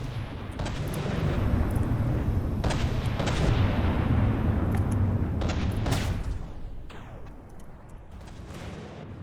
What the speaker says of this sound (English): If the cannon stopped, we're probably effectively dead. Oh no, it is firing.